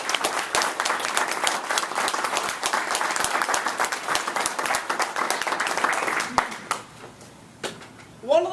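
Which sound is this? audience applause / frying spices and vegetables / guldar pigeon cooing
audience applause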